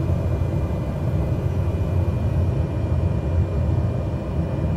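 Cessna 208 Caravan turboprop engine in Microsoft Flight Simulator, a steady, loud, continuous drone with broad rumble, holding even throughout with no voices.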